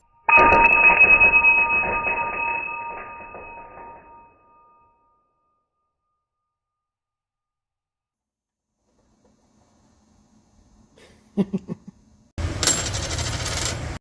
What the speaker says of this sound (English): Let me throw these seats in there.